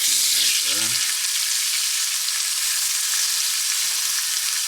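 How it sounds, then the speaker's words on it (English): A speckled trout fillet fries in a hot skillet, giving a loud, steady hiss and sizzle up close. Someone speaks briefly at the very start. "We're gonna get it on that skillet, that high skillet, and we're gonna let it get to cooking. First fillet on the skillet, here we go."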